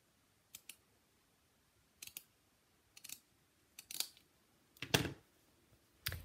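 Scissors snipping paper for a handmade Christmas card, a few short quiet cuts in a row, each one a sharp little burst that builds toward the end, with no voices.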